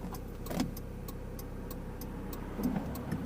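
A Mazda MX5 NB Miata is driven, heard from inside as a low, steady engine and road drone, with a faint regular ticking over it and occasional soft knocks.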